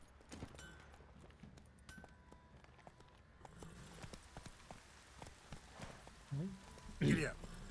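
Horse hooves clip-clop in The Witcher 3 video game, a quiet rhythmic trot of close hoof beats, with a louder voice breaking in near the end.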